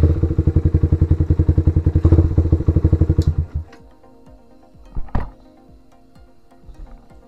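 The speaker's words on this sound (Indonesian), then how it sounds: "Saat ingin menghidupkan mesin dengan electric starter harus selalu disertai dengan menekan tuas kopling." A Suzuki Satria FU motorcycle engine cranks on its electric starter, giving a loud rapid chugging run that cuts off after about three seconds, followed by quiet ticking and a sharp clunk.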